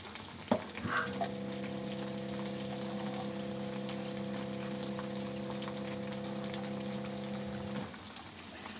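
Hot water pours steadily into a pan of cooking meatballs with potatoes and beans, a continuous gushing stream with a hollow filling tone that lasts several seconds, then stops.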